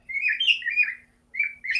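A pet bird chirps loudly indoors in bright, whistled phrases, a long warbling run followed by a brief pause and two more short calls.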